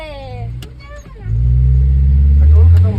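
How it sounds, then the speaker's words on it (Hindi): A car pulls up on a windy street, its mid-pitched engine rising to a loud, steady hum that holds close by for the last half of the moment, following a voice talking over wind. "तो भाई फाइनली गाड़ी आ चुकी है।"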